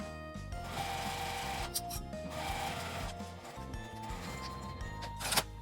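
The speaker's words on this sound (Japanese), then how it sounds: "端から印まで端ミシンをかけます。" A sewing machine runs a steady edge stitch along a small fabric scrap for a coin purse, a continuous mechanical whir with a brief rubbing rustle near the end, fairly faint and without talk.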